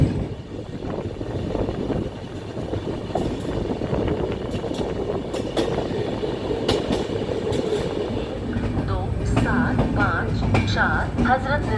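The Hazrat Nizamuddin–Nanded Sampark Kranti Express passenger train running, a loud continuous rumble of wheels and carriages with scattered clacks and squeals, heard close with people talking over it.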